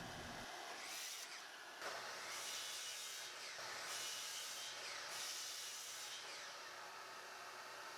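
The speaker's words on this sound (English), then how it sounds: "I'll use the miter saw to break these down even further and get rid of any unwanted sections" Miter saw cutting through wood boards, broken down to remove knots and unwanted sections for an end grain checker cutting board; a steady loud whine with repeated surges as several cuts follow in succession, no talking.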